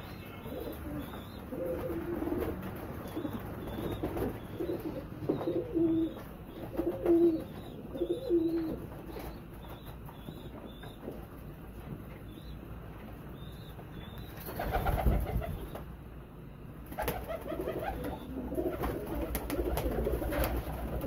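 Pigeons coo softly and repeatedly in a steady background, with occasional chirps and a brief rustle or flutter midway, fairly faint and continuous throughout.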